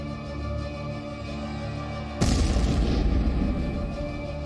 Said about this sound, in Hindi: टारगेट सेट, दूसरा धमाका।